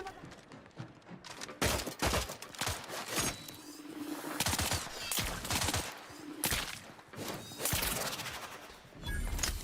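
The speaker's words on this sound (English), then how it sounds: "Shooting grenades in midair." Grenades fire and burst in rapid volleys in a shooter video game, loud explosive cracks clustered in bursts over continuous game noise.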